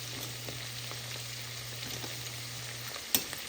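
Eggplant and potato frying with turmeric and salt in a pan, a soft steady sizzle with faint stirring scrapes and one sharp knock near the end, close and fairly quiet.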